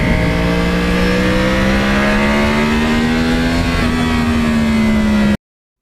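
A 2009 Yamaha R1 sport bike with a cross-plane four-cylinder engine revs loud and close, its tone climbing steadily in one long pull before easing off slightly, then the sound cuts off abruptly.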